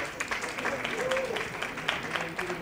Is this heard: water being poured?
no